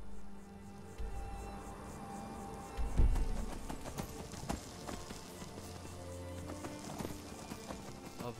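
A summonable horse in modded Skyrim gallops, hooves clip-clopping in a quick rhythm against a busy game background, fairly faint, with a brief heavier thump partway through.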